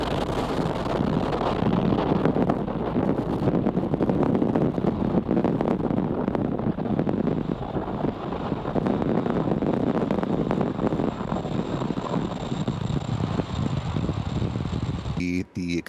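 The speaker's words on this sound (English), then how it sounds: "And liftoff of Falcon 9." A SpaceX Falcon 9 rocket lifts off on the Transporter 11 rideshare mission with a loud, continuous, broadband roar that rumbles and crackles steadily, with no pause and no voices.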